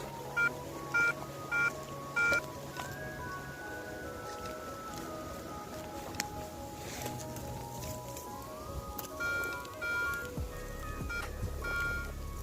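A Garrett ACE 250 metal detector sweeping a dump emits steady electronic tones and short repeated beeps that shift in pitch over a faint rustling background, signalling aluminum cans.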